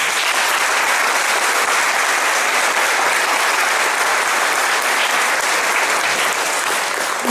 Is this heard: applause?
yes